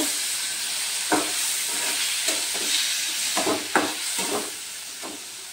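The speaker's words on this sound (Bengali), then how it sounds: "টমেটোগুলোকে একটু নেড়ে নেব।" Tomatoes frying in a pan and being stirred, with a continuous hissing sizzle and a series of distinct scraping spoon strokes at irregular intervals, close-up and steady, without talk.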